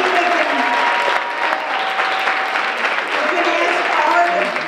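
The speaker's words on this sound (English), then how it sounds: "I think they really need another round of applause." Sustained, dense applause from a large audience at a student film festival, loud and steady throughout with no pauses.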